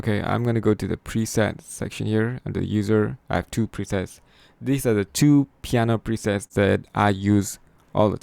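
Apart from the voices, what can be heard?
No everyday noises stand out.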